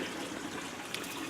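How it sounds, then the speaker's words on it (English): Water trickles and gurgles steadily as it drains from hydroponic buckets into a sump, a soft continuous liquid flow with no voices. "it's still draining the water from the buckets into the sump pump"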